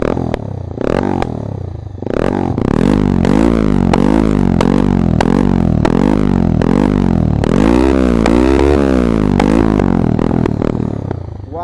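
A motorcycle with an Akrapovic exhaust revs loudly and repeatedly close by, each throttle blip rising and falling in pitch, in a rapid rhythmic series over a deep, throaty idle.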